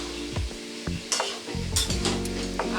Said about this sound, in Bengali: মশলাটা দিয়ে একটু খুব ভালো করে মিশিয়ে নিয়ে এটাকে নামিয়ে নেব।